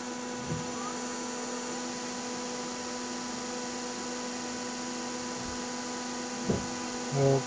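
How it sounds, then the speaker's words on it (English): A DC motor turns under an H-bridge speed controller: a steady electrical whine and hum with tonal overtones, constant in level throughout, with a couple of small knocks near the end. "Here's the motor turning."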